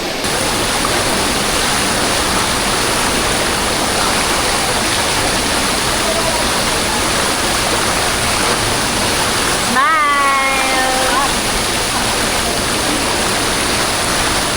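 Steady, loud roar of a waterfall at a hiking and camping spot on the Laiban trail, a continuous broadband rush filling the whole clip, with a brief whistle-like chirp near the end.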